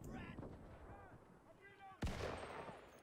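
Video game gunfire from a Johnson LMG battle, heard faint and distant under murmuring game chatter, then one sharp louder shot near the end followed by a ringing tail.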